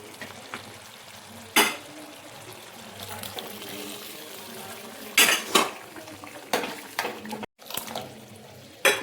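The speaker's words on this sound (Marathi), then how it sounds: "याच्यामध्ये आता आपण तुरीची डाळ शिजून घेतलेली आहे, ते टाकून घ्यायची" Cooked toor dal tipped into a pot of monsoon vegetable curry, with a few sharp clatters of a spoon against the pot and soft stirring over a low kitchen hiss, no talking.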